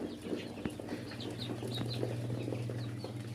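Desi chickens and small caged birds make faint, scattered clucks and chirps over a steady low hum, with a few soft wing flutters and taps, all fairly quiet and without talking.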